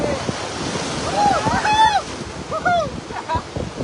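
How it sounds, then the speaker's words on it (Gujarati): Sea waves washing ashore at Dwarka, a continuous rushing surf mixed with gusts of wind noise, with people talking nearby. "અહીંથી તમે જોઈ શકો છો દરિયો ભાઈ અને પાણી આવે"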